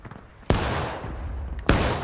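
Two sharp rifle shots crack out in War of Rights, the Civil War-era multiplayer game, about a second apart during a skirmish, each blast loud and close with a long rolling echo trailing after it.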